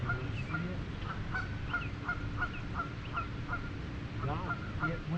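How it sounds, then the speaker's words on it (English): Several geese honk in a rapid series of loud, close calls over steady outdoor background noise, with a pair of honks first and then a regular run of calls, near a pond where stocked trout are fished. "one of the adult geese chased the babies"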